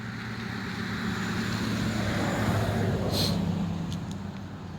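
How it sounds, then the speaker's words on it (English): A car passing on a rural roadside, a steady broad road rumble that swells gently and fades, heard from the verge with no talk. "We got a car coming."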